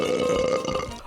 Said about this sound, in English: Oh, heavens forbid we actually see a girl burp.